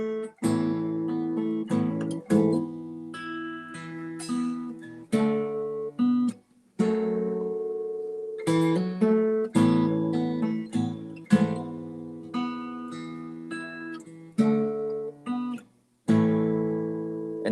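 Acoustic guitar plays a chord progression, strummed alone in clear repeated phrases with short pauses between chord changes.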